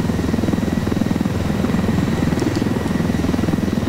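A helicopter in the video game Ghost Recon Wildlands flies steadily with a loud, continuous rotor thump and engine drone, heard alone without speech.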